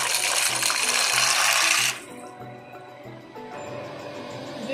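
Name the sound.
macaroni added into boiling water in a pot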